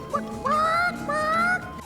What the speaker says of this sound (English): The book appears again making chicken sounds and starts instigating some more